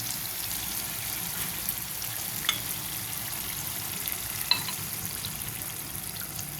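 Birakaya (ridge gourd) curry simmers in a pan after milk is added, giving a steady, soft sizzle and bubbling. A couple of faint clinks break through close by, with no talking.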